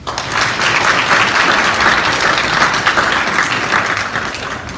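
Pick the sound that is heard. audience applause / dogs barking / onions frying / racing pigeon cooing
audience applause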